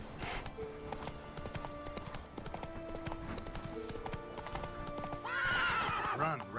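Horse hooves clip-clop in a steady galloping rhythm in The Witcher 3: Wild Hunt, with a loud whinny near the end over game music and ambient sound.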